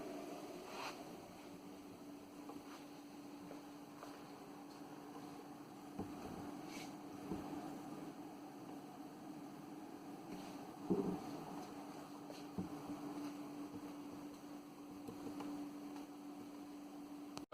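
A steady, even whir from an ALS 600 amateur radio amplifier with a quieter fan-modded power supply, holding a low hum throughout with a few faint clicks and no voices.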